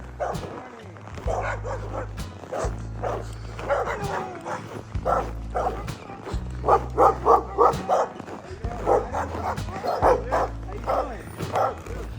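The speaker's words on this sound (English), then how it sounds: "followed the sounds of excited barking" Several sled dogs bark and yip excitedly in bursts, some whimpering mixed in, moderately close with a low hum underneath, in Fairbanks, Alaska.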